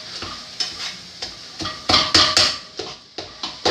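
Potatoes being mashed with a masher for potato tacos: repeated soft squelching presses and clanks against the pan in an irregular rhythm, close and fairly loud, with no talking.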